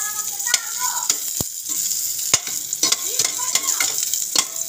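Garlic sizzles in hot oil in a pan for an adobo, with steady frying crackle and repeated sharp scrapes and clacks of a utensil stirring it, close and fairly loud.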